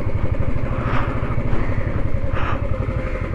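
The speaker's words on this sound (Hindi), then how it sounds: "बंद करेंगे बाइक को यहाँ पे पार्क।" A motorcycle idles steadily and loudly close by on a Mumbai street while being parked, its engine putting out an even, pulsing chug throughout.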